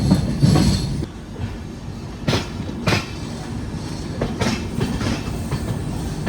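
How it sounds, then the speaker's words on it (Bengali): A train rolls into New Farakka Junction, platform one, with rumbling wheels and a few sharp clanks and squeals standing out, fairly close, with no one speaking. "এগারো মিনিট আমাদের ট্রেন পৌঁছালো নিউ ফারাক্কা জংশন"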